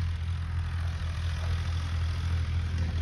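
A tractor engine drones steadily while seeding soybeans in a farm field, a constant low rumbling hum at moderate distance with no breaks and no talking.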